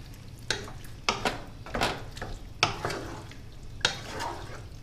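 Sausage rougail being stirred in a cooking pot, with a spoon scraping and knocking against the metal in several separate strokes over a low steady simmer, fairly close and without talk.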